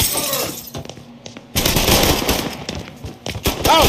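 Rapid gunfire from the video game Mafia 3, loud bursts of automatic shots with overlapping impacts, briefly easing before a dense, sustained volley.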